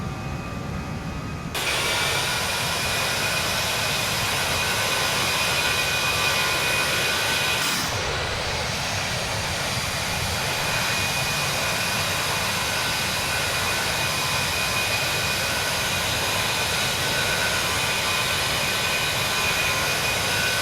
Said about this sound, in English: This is Aerosoft's Airbus A319.